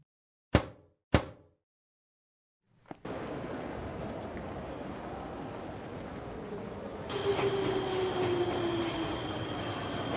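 Two sharp knocks and a thud, then a steady rumble of a video game train running with a minor engine malfunction, with a rising metallic whine joining partway through.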